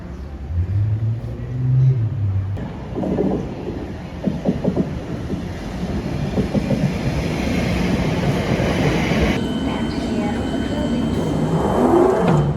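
Ride on a London Underground train, its broad rumbling roar and rattling carriage noise filling the space steadily and loudly, with brief low hums and clatter early on and faint voices in the background.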